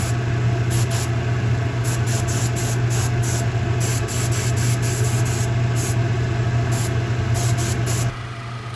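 Airbrush hissing as dark weathering overspray is misted onto a G Scale model flatcar and its load, a steady loud spray with rhythmic short bursts layered on top, cutting off near the end.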